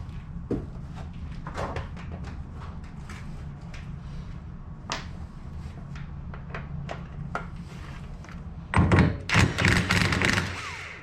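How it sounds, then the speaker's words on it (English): Nut being worked off a CV axle on a 2009 Polaris Ranger Crew: scattered metallic taps and light clunks, then a loud closing burst of rapid ratcheting clatter. "Get this nut off here now."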